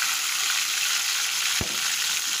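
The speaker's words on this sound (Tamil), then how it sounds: "ஆயில் நல்லா சூடானதுக்கப்புறம் இந்த பாயிலான சிக்கன் எல்லாம் வந்து அப்படியே அதில் ஆட் பண்ணிக்கோங்க." Boiled chicken added to hot oil and gravy in a spicy chicken gravy, giving a steady close sizzle and frying hiss throughout, with one brief low clunk partway through and no talk.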